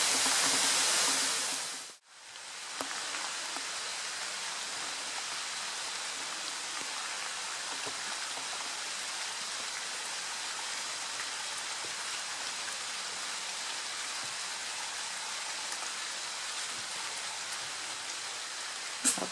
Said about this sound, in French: Là il y a une cascade, d'où le bruit, hein, c'est pas la pluie qui fait ce bruit là.